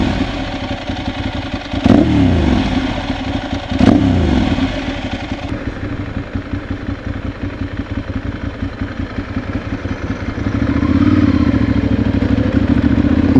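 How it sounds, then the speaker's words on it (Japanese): A Ducati motorcycle's air-cooled engine rumbles through its exhaust with a deep, uneven, throbbing beat. Two sharp revs punch out early, then it settles into a steady, loud, close idle with no voices. "このドカの排気音ってやっぱ独特でいいですよね"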